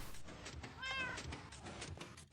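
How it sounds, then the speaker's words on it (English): A single faint meow from a cat in the Minecraft video game, heard alone against a quiet background. "we are pushing the cat down so it can sit for a moment"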